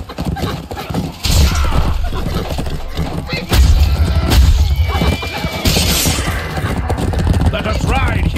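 A horse in a mounted fight gives a loud, close whinny near the end, amid clip-clopping hooves, crashes and booming impacts, while a person shouts over the action.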